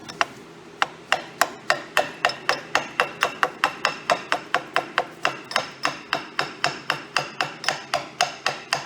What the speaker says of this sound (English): Grab a hammer. Ever so slightly give him a tap in.